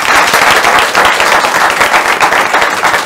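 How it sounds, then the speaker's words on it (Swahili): Dense, steady applause from an audience clapping for Dr. Samson Kuhora at the close of a health-coverage discussion, loud and continuous throughout with no talk over it. "Wapi makofi ya Sam Kuhora?"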